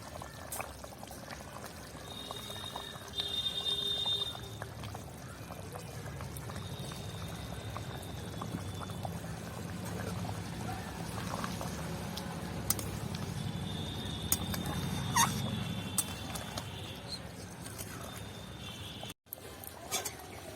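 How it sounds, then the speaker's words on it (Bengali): Cooked chicken curry made with elephant foot yam and whole garlic cloves pours out of a pot in a soft, steady wet stream that runs for about twenty seconds, faint and close. "এবার আমি এটাকে ঢেলে নিচ্ছি।"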